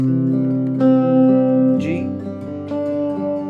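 Sustained strummed guitar chords ring out in a steady repeating progression, changing chord roughly every second, clear and close with no voices.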